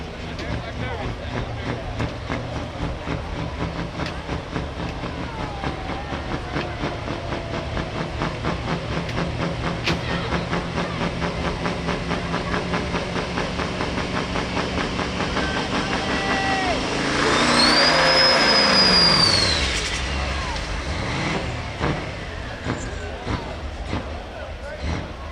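A street semi truck's engine revs at a truck pull at the 2025 Noble County Fair in Caldwell, a rumbling drone that builds to a loud roaring surge near the end, with an announcer talking over it.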